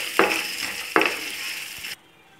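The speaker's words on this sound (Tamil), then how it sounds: "இப்போ பாருங்க, மிளகாய், தனியா, மிளகு, சீரகம், தேங்காய் எல்லாமே நல்லா வறுபட்டுடுச்சு." Chillies, coriander seeds, black pepper, cumin and coconut dry roasting in a pan for a Chennai seer fish curry, with a steady crackling sizzle and two sharp stirring scrapes before the sound cuts off.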